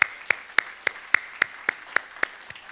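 A church congregation claps together in a steady unison beat, roughly ten sharp, evenly spaced claps over a few seconds with no talking.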